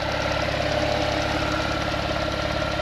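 A Porsche 911 Targa 4S (997.2) 3.8-litre flat-six boxer engine idles with a steady, low thrum and a faint knocking pulse, close and even throughout, with no voices.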